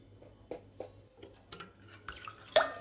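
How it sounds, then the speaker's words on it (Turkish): An egg stirred into sugar, warm milk and oil in a bowl, giving quiet, separate clinks and scrapes of a utensil against the bowl, spaced out at intervals, with a louder knock at the very end. "Yine yumurtayı da karıştırıyorum."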